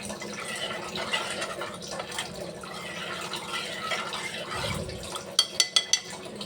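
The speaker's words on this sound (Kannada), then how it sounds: "1 ಲೋಟ ಅಕ್ಕಿಗೆ 2 ಲೋಟ ನೀರು ಹಾಕ್ತಾಯಿದ್ದೀನಿ" Water poured into a pot of rice, a soft continuous splashing and filling sound up close, ending with a few sharp clinks of a vessel, and no one talking.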